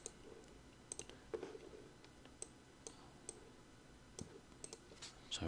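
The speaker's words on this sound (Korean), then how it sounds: "타이핑을 한번 쳐볼까요?" Quick, uneven keystrokes on a computer keyboard, clicking in short bursts with small pauses, fairly close and quiet, with no talking.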